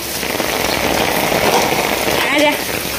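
Monsoon rain pours steadily onto a rooftop terrace in a continuous, close, hissing wash, with a brief crackling patch of heavier drops near the end.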